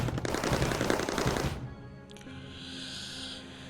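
Cyclone turrets in Mindustry fire fragmentation ammo as a dense rapid rattle of shots for about a second and a half, then stop, leaving a quieter hum and a faint high whine.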